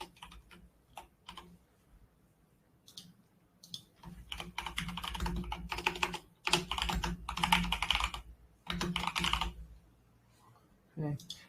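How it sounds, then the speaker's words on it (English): Close, fairly quiet typing on a computer keyboard, with scattered single keystrokes at first and then dense bursts of clicking clatter separated by short pauses. A voice speaks softly at times. "Let's type in celebration."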